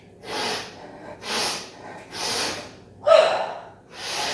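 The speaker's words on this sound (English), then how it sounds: "Make your exhales loud." Loud, forceful breaths during a yoga class, about five pushed exhales at a slow, even pace with short pauses between them, close and clear with no talking.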